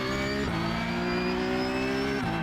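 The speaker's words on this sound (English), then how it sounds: "You can only hear the car." Race car engine in the iRacing sim: a steady, loud, buzzing engine drone holds a constant pitch with two brief shifts in tone, alone with no voices.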